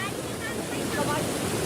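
A fast-flowing river swollen by monsoon rain in Madhya Pradesh gives a steady, loud rushing roar with wind buffeting the microphone and no break in the noise.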